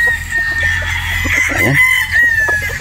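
Gamefowl chickens and roosters being picked out at a farm cluck and crow close by, with a loud crow in the middle. A voice speaks briefly over the birds.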